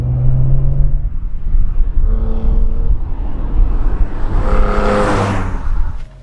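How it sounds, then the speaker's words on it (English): A BMW M3 CSL is being driven, its engine a steady, close, loud drone that swells and builds toward the end before dropping away abruptly. "the first time he drives an M3 CSL"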